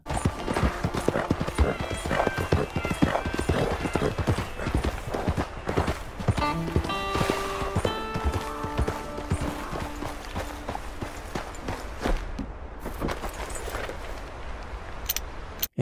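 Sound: horse hooves walking in Red Dead video game

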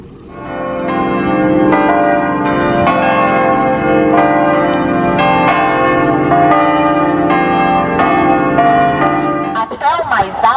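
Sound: church bells ringing

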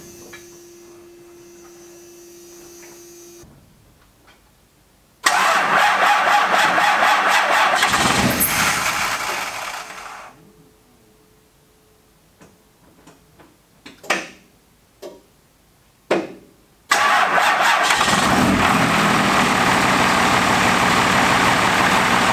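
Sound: Cummins dually truck diesel engine cold starting

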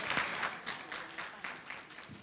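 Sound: audience applause

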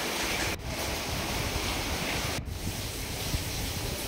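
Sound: floodwater from evening rain flowing into a house

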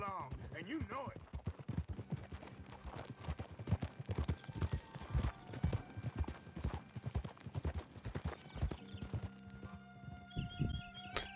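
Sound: horse riding hooves in video game Red Dead Redemption 2

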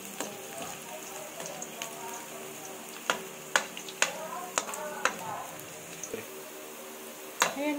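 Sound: garlic, ginger and onion sautéing in a pan

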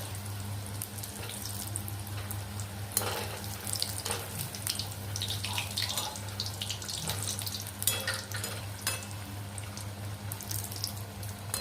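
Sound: samosas deep-frying in oil

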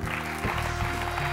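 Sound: audience applause at a comedy show

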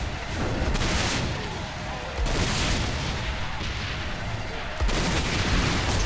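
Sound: gunfire shooting at a car in the video game Saints Row 4

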